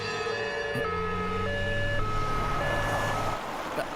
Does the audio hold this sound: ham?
no